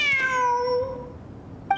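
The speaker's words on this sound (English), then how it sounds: "and Jur both heard the sound of a cat while escaping the ruin" A cat in the video game Genshin Impact gives a single drawn-out meow, its pitch sliding slowly downward and fading over nearly two seconds, close and clear, with a short faint noise at the very end.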